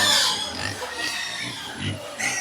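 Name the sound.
pigs oinking on a pig farm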